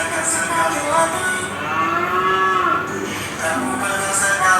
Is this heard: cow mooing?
yes